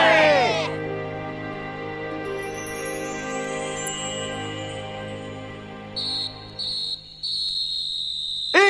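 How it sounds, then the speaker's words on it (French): A referee's final whistle in an Inazuma Eleven anime football match sounds in three short, shrill blasts near the end, cutting over a continuous loud wash of crowd and music. "Et c'est le coup de sifflet final."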